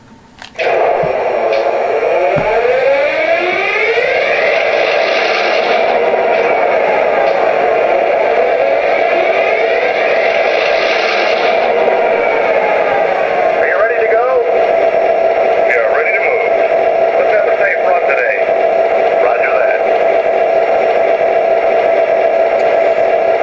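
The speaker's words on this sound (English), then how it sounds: "The dual startup of the 645 Roots blown prime mover is really, really good." A model diesel locomotive's sound system plays a startup of a 645 Roots-blown prime mover: the engine cranks and catches, then settles into a steady, loud rumbling idle with a whining tone. The sound is continuous and close.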